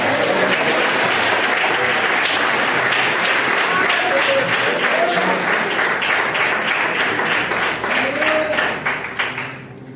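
Enthusiastic applause from a church congregation during a Portuguese-language sermon, loud dense clapping with scattered voices and cheers mixed in, tapering off and fading at the very end.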